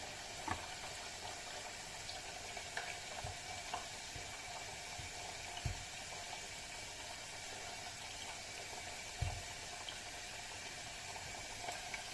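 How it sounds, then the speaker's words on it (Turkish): Sliced onions sautéing in a little oil in a pan, a low steady sizzle running alone throughout with occasional soft clicks and bumps. "tavamıza birazcık yağ koyarak piyazlık doğradığımız soğanlarımızı soteleyelim"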